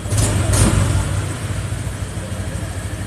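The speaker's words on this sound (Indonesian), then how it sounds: "Coba digeber" A car engine revs up, the low rumble surging at the start and then settling into a steady, fairly loud drone.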